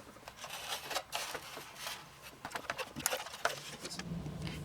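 A pair of scissors snips through foam rubber pieces, giving faint, close, irregular cutting and rubbing sounds with small clusters of sharp clicks and no talking.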